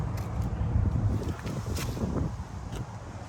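A Kohler motor on a Sapphire Scientific 370SS carpet cleaning truckmount runs steadily nearby, a low rumbling drone with breezy air noise from its exhaust and no talking.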